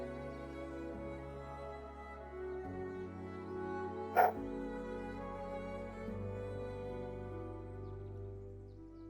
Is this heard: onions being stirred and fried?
no